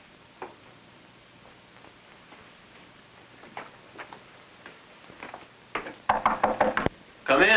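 A series of sharp, faint knocks on a door, widely spaced at first, then sounding louder and in quicker clusters toward the end, over a quiet room background.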